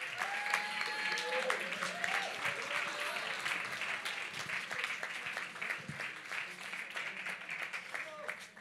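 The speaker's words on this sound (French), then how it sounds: "On les applaudit, on les encourage." An audience claps to encourage children at a Christmas event, a steady wash of moderately quiet applause mixed with voices calling and cheering throughout.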